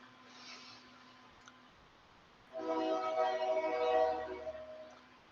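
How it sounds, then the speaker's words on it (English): A train rumbles past at moderate distance, its loud, steady roar swelling midway with a long horn blast, then easing off; a faint tone lingers beforehand. "so you can hear those trains as they come by."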